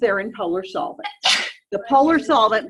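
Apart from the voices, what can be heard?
sneeze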